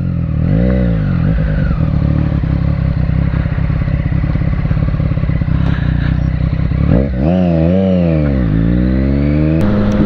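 Motorcycle ridden along a road near Avebury, its engine loud and close throughout with rising and falling revs as the rider shifts gears, plus wind rumble and occasional clatter.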